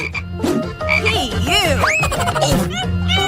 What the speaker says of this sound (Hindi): ये तुम्हारा मेंढक है